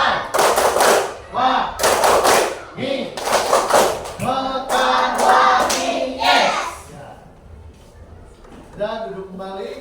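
A school class claps the tepuk karwa rhythm in sharp, loud bursts of hand claps in a patterned beat, then an adult voice speaks and children answer toward the end.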